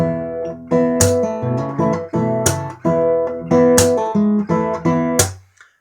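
An acoustic guitar plays a rhythmic passage of a song, plucked chords and notes with sharp percussive slaps punctuating it several times; close and fairly loud.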